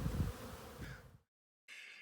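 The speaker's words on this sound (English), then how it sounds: "So there's going to be a lot of bees here." Honey bees buzz around an open beehive during a beekeeping session, a steady insect drone that cuts out completely for a moment and then resumes.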